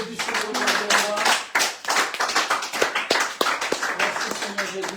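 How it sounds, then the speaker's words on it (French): Church congregation clapping rhythmically in steady, loud bursts of hand claps, with some voices mixed in beneath the claps. "Nous applaudissons le roi des rois."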